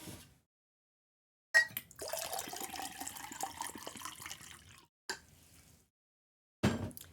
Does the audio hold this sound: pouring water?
yes